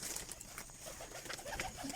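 Pigeons kept in pairs for sale in Sialkot coo softly at close range, with low rolling calls repeating over a busy background, and no talking.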